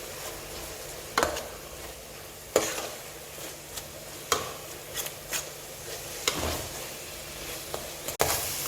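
Squash sauce with tomato paste, tomato and parsley being stirred in a pan, a steady soft sizzle broken by sharp scraping strokes of the utensil every second or so, close and fairly loud, with no talking.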